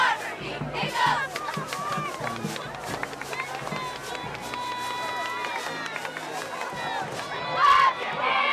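A packed high school football crowd at a Carver game chants and shouts together, a loud, dense wash of voices with rhythmic beats running underneath throughout.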